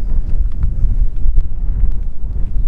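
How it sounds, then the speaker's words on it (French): Strong warm wind near a tornado roars continuously and loudly against the microphone, a dense low rumbling gust with no break across the whole stretch. "T'as vu le vent chaud qu'on se prend dans la gueule là?"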